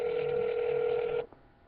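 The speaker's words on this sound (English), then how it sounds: "Making a quick phone call here so you guys can hear some objections live" A steady telephone tone sounds for just over a second while a phone call is being placed, then cuts off abruptly, leaving faint background hiss.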